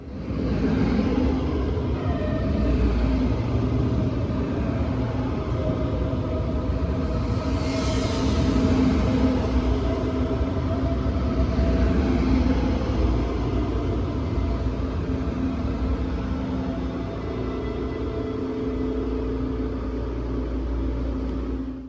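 Munich S-Bahn trains at St Martin-Straße station produce a continuous low rumble with a hum of rolling stock that swells and eases slightly over twenty-odd seconds, with no voices.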